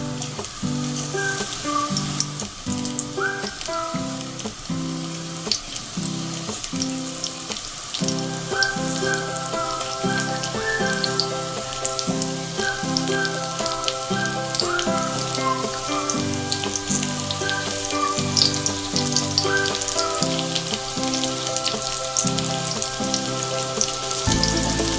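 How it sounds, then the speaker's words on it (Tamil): Mutton pieces frying in oil in a pan for fried rice, giving a steady, loud crackling sizzle that continues without pause under a bed of background music, with no talking. "நல்லா திருப்பி போட்டு நல்லா ஃப்ரை பண்ணிக்கோங்க."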